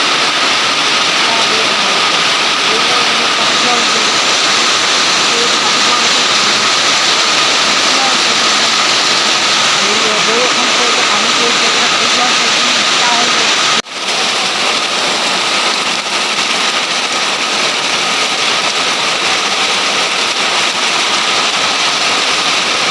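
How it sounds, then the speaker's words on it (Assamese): Heavy rain pours down in a dense, steady, close roar that fills the whole stretch, dipping only for a moment partway through. "এতিয়া বৰষুণ মানে পুৰা দিছে, পুৰা ঢালিছে বৰষুণ।"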